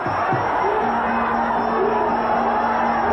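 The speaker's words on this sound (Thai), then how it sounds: "เสียงตะโกนว่าพอแล้วพอแล้วไม่รู้ว่าใครตะโกนนะครับ" A crowd at a Muay Thai boxing match shouts and roars in a dense, continuous wall of noise, with one sustained shout standing out above the din.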